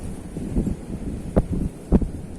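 Outdoor wind buffeting the microphone at a fishing spot for mullet as drizzle begins, a steady low rush with a couple of sharper gusts or thumps, no talking.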